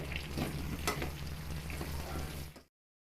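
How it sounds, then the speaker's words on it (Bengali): Onions fry in a pan with a steady, close sizzle and crackle, with a few sharper spits along the way, before the sound cuts off abruptly near the end. "আমি বেশ খানিকটা পেঁয়াজ ভেজে নিচ্ছি।"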